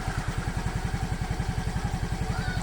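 Yamaha Fazzio scooter engine idling close by, a steady, fast, even putter of low thumping pulses with no revving.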